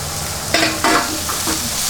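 Coriander and mint leaves gently mixed with potatoes and spinach puree for hara bhara kebab, a low sizzle broken by two or three brief scraping stir strokes close by.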